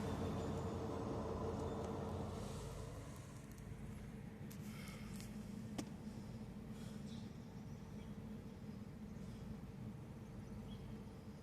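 A low, steady railway locomotive engine rumble drones on at a distance, heavier at first and then settling into a constant idle.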